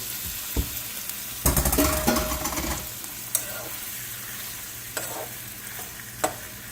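Shrimp for a spicy curry go into a pan of garlic and onion, setting off a loud burst of sizzling. The frying then settles to a quieter hiss, broken by a few sharp clicks of utensils against the pan.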